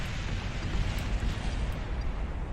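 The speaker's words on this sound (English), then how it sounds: "there's a bit of an explosion going on up there" A sustained explosion in Kerbal Space Program, heard as a steady, dense low roar and rumble with a faint crackle on top, holding at an even level throughout.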